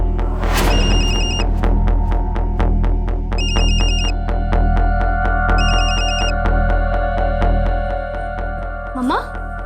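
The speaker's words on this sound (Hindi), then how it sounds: "मम्मा, मेरा फोन बज रहा था क्या?" A mobile phone ringtone repeating in steady bursts of bright electronic tones, loud and near, with talk in a home setting and a brief clatter near the start.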